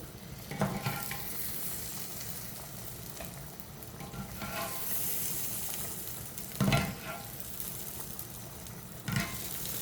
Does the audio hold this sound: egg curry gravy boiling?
yes